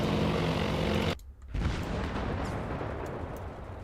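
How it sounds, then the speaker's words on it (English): Torpedo hits on warships in the naval strategy game Task Force Admiral produce a heavy rumbling roar of explosions, briefly cut to near silence, then resume as a dense booming wash that slowly fades. "one of my ships is being hit by a load of torpedoes."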